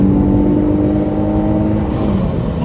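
A modified V6 SXT car with all-wheel drive and an audible blow-off valve accelerates up a ramp, its engine roaring loudly and steadily with rising tonal notes, close by and without speech.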